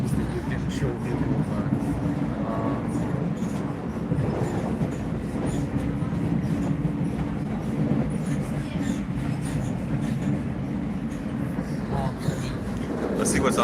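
A passenger train running from Loznica to Belgrade in Serbia gives a steady, dense rumble of wheels on rails that fills the whole stretch, with a faint rhythmic clatter and a voice speaking underneath.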